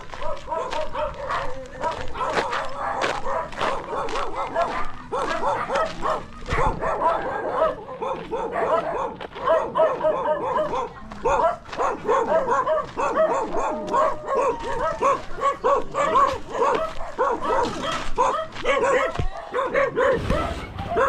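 Several neighborhood dogs bark and yip repeatedly in sharp bursts, close and loud, with some whimpering mixed in, while a person talks over them during a walk.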